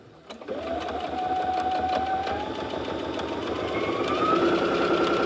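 A sewing machine stitches a boxy bag, its motor starting after a brief pause and running in a steady, close, rapid whir that rises slightly in pitch as it speeds up.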